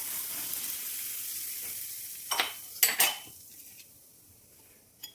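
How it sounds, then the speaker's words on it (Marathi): Very hot oil poured onto semolina samosa dough in a home kitchen, a few loud bursts of crackling sizzle with utensil clinks against a pot, close and without speech. "आपण जे तेल घेतले होते ते आता कडकडीत गरम करून घेऊया"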